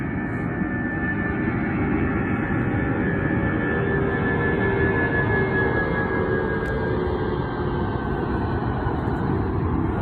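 A fixed-wing airplane takes off at an airport beneath a hot air balloon, its engine roar loud and steady throughout, a broad continuous rumble with a faint rising whine on top.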